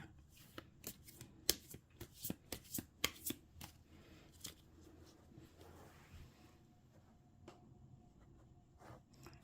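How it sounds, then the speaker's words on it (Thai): Tarot cards being shuffled and cut for a zodiac reading, a run of crisp riffling snaps and clicks followed by softer handling, close and quiet with no talking. "ขอเป็นตัวแทนสับไพ่ตัดไพ่ให้คนเกิดปีเถาะค่ะ"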